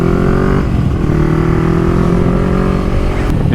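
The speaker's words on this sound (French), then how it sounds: "ma moto elle fait quand même beaucoup de bruit" Motorcycle engine droning steadily while riding, recorded from an onboard camera, a loud continuous hum with slight pitch shifts as the throttle changes.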